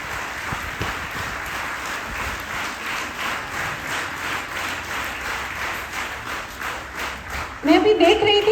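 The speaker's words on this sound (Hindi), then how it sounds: "तालियों का एक राउंड आपकी यूथ मैम के लिए भी बनता है" Scattered clapping runs through the stretch at a school performance event, fairly soft under a busy room, with a sudden louder burst of sound near the end.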